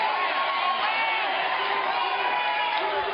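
A large crowd at a presidential campaign rally cheers and shouts continuously, a dense, loud wash of voices and whoops filling the whole stretch without pause.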